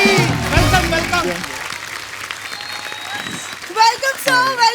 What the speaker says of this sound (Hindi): जोरदार तालियां अक्षय बाजी के लिए।